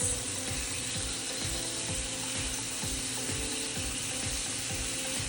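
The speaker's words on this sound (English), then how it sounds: "we're gonna let that sear nicely for about 4 minutes" Lemon herb salmon pieces searing in a hot pan make a steady, close hissing sizzle throughout, with a faint rapid mechanical ticking running underneath, and no one speaking.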